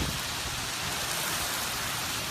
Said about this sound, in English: you can see the relentless rain going sideways, and you know how loud it is when it really, really rains